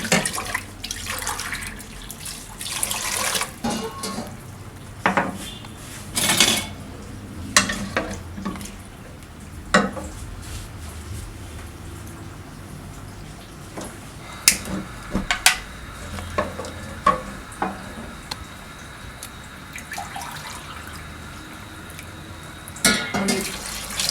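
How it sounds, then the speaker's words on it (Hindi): Water is poured into a cooking pot of spiced aloo tarkari potato curry. Splashes and sizzling bursts are scattered among clinks and scrapes of utensils on the pot, heard close up with no voices. "अब इसमें 2 गिलास पानी डालेंगे"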